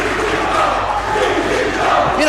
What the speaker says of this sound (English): Crowd breaks out into a huge CZW chant.